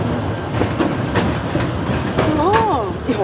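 A small ride train at Europa-Park amusement park rolls along with steady rumbling and clickety-clack from the wheels, a brief high squeal near the end, and people talking over it.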